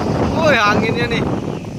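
Wind roaring across an open window or microphone on a Padang-Bandung intercity bus trip, a steady loud gusty rush filling the whole stretch, with a person talking over it.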